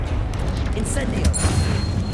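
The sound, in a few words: Incendio fire spell in Hogwarts Legacy video game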